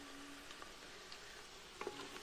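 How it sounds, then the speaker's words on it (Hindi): Cinnamon, black cardamom and green cardamom hit hot oil, giving a soft, steady sizzle with faint pops and a few small clinks of stirring. "अब ना हम इसी ऑयल में ये ऐड करेंगे दालचीनी, बड़ी इलायची, छोटी इलायची"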